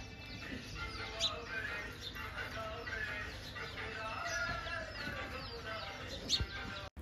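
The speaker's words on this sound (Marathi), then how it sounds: "किती छान पक्ष्यांच्या किलबिल्लटाचा आवाज येतोय ना." Chickens cluck and birds chirp faintly on a quiet morning at Taharabad, with scattered calls over soft background ambience.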